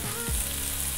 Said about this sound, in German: Beim Anbraten muss der Topf richtig heiß sein, richtig knackeheiß